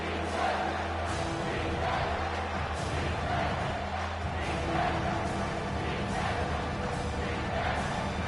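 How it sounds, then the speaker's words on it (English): A dense, steady roar of a stadium crowd in the College Football 25 video game swells continuously, loud and unbroken, with a game commentator's voice faintly mixed in. "Decibels rising as the crowd gets behind this defense on third down."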